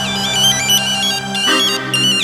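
A mobile phone ringtone plays a bright, tonal melody with a repeating pattern, loud and close, with no talking over it.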